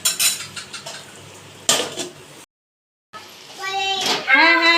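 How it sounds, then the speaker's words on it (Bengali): A metal lid clanks onto a pot of oil-free chicken cooking with masala, with several sharp utensil and pot clatters, a brief silence, then a voice. "আবার আমি ঢাকা দিয়ে দিব।"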